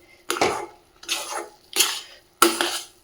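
A utensil scrapes dry semolina (suji) around a pan in four separate strokes, each a short rasping scrape with a pause between, close and clear with no voices.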